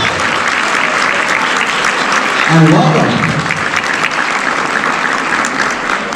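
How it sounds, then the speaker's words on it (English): A crowd applauds steadily for several seconds at a school district general assembly welcoming new teachers, while a voice speaks over the clapping. "Our big round of applause for our new teachers that are here."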